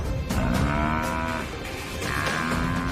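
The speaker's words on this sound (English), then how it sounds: "Buffalo is strong and can wheel around, slashing with his horns, lashing out with his hooves." Wild African buffalo clash with lions, a loud, continuous bellowing moo-like lowing with harmonic cries rising and falling over about three seconds, close and raw with scuffling noise beneath, no talk.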